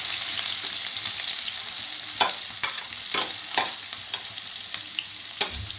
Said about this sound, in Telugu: ఆయిల్ కాగాక వేడయ్యాక ఇందులో ఉల్లిపాయ ముక్కలు వేసుకుందాం